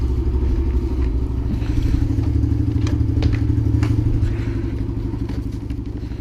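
A dirt bike engine runs steadily while riding on a snowy day, a loud, continuous low-pitched drone with rough mechanical clatter, staying close and fairly even throughout with slight surges in revs.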